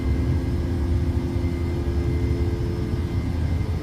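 PMDG 737-800 jet climbing out in Microsoft Flight Simulator, a constant loud engine roar with a low rumble and steady whine, unbroken from start to finish.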